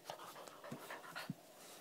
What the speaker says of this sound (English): They're just little puppies.